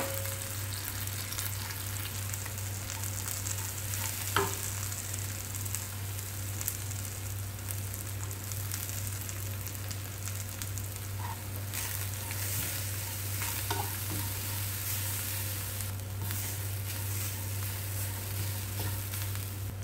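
Grated coconut sautéed with cashews and roasted gram in a pan, a long steady faint sizzle with a few sparse clinks and scrapes of stirring, close and without talk.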